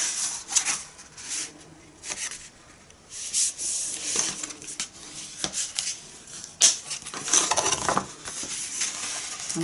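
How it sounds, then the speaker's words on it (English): The folded edges of a paper card box are burnished by hand, with close, dry rubbing and scraping strokes in irregular bursts and short pauses between them. "we can then just burnish the edges"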